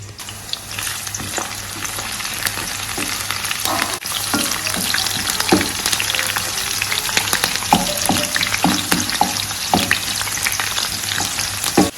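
Onions fry in a pot for Ghanaian Fante Fante fisherman's stew, a loud, dense, continuous sizzle with scattered crackles and occasional stirring scrapes, close up with no voices.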